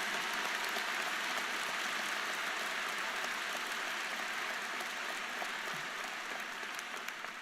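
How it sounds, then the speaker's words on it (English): Sustained applause from a large audience at a university graduate school commencement ceremony, a dense, steady wash of clapping that holds evenly throughout with no speech over it. "Let's have a round of applause for everyone at this university"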